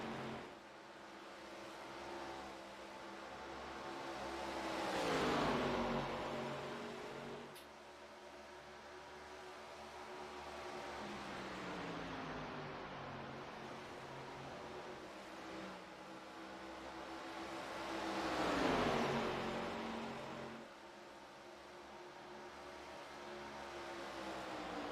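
Old-style street stock race cars roar around an oval track, engines droning steadily with two louder swells as cars sweep past, heard from a distance without voices.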